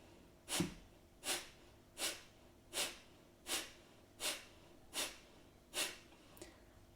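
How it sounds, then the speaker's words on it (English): Eight forceful, evenly spaced exhalations through the nostrils during Agni fire breathing in a Kundalini yoga kriya, each a sharp close puff of breath about once every three-quarters of a second, quiet and alone. "the fire breath is called the Agni fire breathing, and it literally is a pumping of the navel towards the spine on the exhalation"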